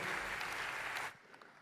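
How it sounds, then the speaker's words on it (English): A conference audience at a provincial film industry gathering in KwaZulu-Natal claps steadily for about a second, then the applause cuts off abruptly and leaves quiet room noise. "A huge round of applause, ladies and gentlemen."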